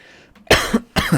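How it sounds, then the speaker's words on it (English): Two sharp human coughs, close and fairly loud, separated by a short pause, with a softer throaty sound before them, in dusty air. "little coughs going on today"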